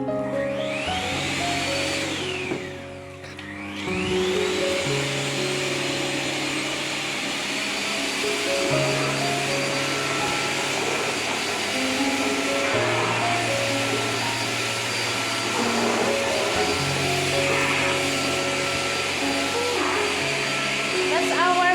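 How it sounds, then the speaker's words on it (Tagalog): A small Polti Forzaspira vacuum cleaner runs steadily and loudly throughout, its whine shifting in pitch as it works, with speech over it now and then. "That's our vacuum,"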